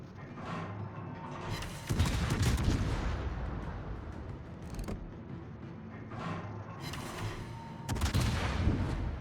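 The guns of the Tier X heavy cruiser Des Moines fire shells in World of Warships, with several heavy booming salvos spaced a few seconds apart. Each blast has a sharp crack followed by a rolling rumble over a constant low background roar.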